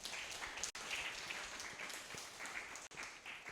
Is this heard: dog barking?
no